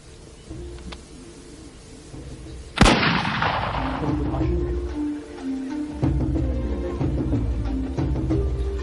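A single loud rifle shot cracks out during a big-game rhino hunt in African long grass, followed by a lingering rumble and echo over steady outdoor ambience, with faint wildlife and occasional low noises.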